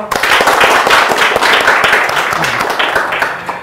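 Students at SMKN 1 Tanjung clap together for a steady stretch after a business talk, a dense wash of many hands that holds loud throughout the clip without letting up.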